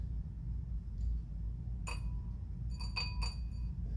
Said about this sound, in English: I brought a glass and I brought some water.